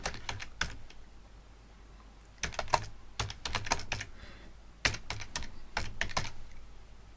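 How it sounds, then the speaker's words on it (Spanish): Rapid keystrokes on a computer keyboard while entering text into an Excel spreadsheet cell, coming in several quick bursts separated by short pauses, close and clear with no voices. "me pongo a escribir en la celda"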